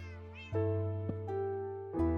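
Cats in the Minecraft video game meow over one another in several overlapping, drawn-out tonal calls, close and moderately loud, with no voices.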